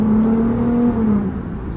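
A Lexus IS350 with a loud exhaust downshifts inside a tunnel at night, giving a steady, booming engine drone that sinks slightly in pitch and fades a little near the end, heard up close with no talking.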